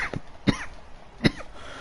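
Three short, raspy coughs in quick succession, close and fairly loud, with brief quiet gaps between them and no speech.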